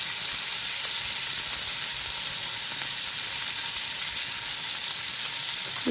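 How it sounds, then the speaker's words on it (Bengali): Chicken balls frying in hot oil give off a steady, dense sizzle that holds at an even level from start to finish, close and continuous with no talk over it. "এগুলো আমি এখন একটু ফ্রাই করব।"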